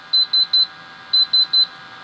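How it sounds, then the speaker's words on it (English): Gas detection instrument in alarm during a bump test, sounding two quick bursts of three sharp, high-pitched electronic beeps, loud and close with no talk. "we're going to wait until all 4 or 5 sensors are in alarm"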